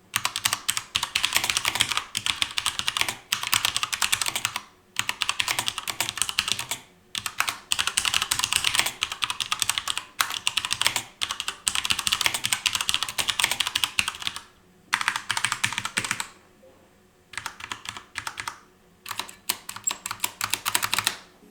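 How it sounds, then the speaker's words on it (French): Typing on an Asus ROG Strix Scope TKL mechanical keyboard: close, crisp key clatter in fast bursts broken by short pauses, with no talking. "Du coup c'est parti, le test du son."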